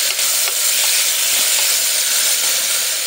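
Two large onions fry hard in a pan, giving a loud, dense, continuous sizzle with steady hiss and faint crackles throughout, close up with no talk over it.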